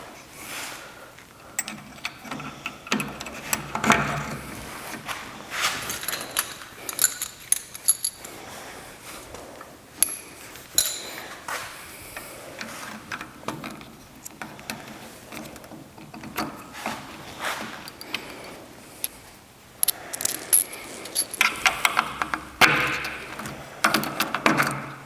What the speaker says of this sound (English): you're gonna get a washer and the bolts and go ahead and push them through